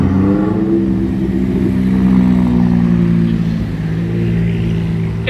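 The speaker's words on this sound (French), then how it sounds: "Revoilà la McLaren." A McLaren supercar drives past on a Monaco street, a loud nearby engine note that holds steady and then shifts pitch as it passes.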